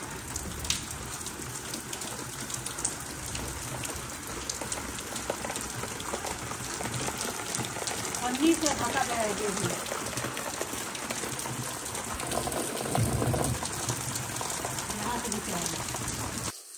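Heavy rain pours steadily on a covered wheat field in Bihar, a dense continuous hiss with drops drumming on plastic sheeting, and a voice speaks briefly over it.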